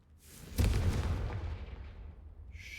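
A single fiery Confringo spell explosion from Hogwarts Legacy bursts with a sharp crack, then a long, rumbling roar that slowly decays over two seconds, fairly quiet overall.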